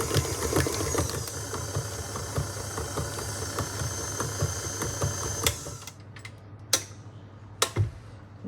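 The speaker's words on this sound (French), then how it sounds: "J'augmente un tout petit peu. Pour décoller tout l'appareil des parois du robot." A stand mixer beats chocolate cake batter for a fondant with mascarpone and tonka bean, running steadily with a loud rhythmic mechanical whir, then stopping and giving way to a few sharp knocks and scrapes.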